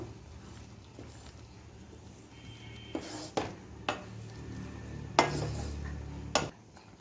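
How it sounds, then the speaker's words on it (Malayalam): Beetroot pachadi with ground coconut paste is stirred in a pot: a quiet background hum, then several distinct clunks and scrapes of a spoon against the pot. "ഇനി ഒന്ന് നന്നായിട്ടൊന്ന് ഇളക്കി കൊടുക്കാം"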